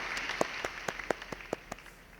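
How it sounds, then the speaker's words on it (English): A few people clapping for winners at a 2020 CAD/CAM design competition, sparse individual claps in an uneven rhythm, moderately close but quiet, thinning out toward the end. "Please give them a round of applause."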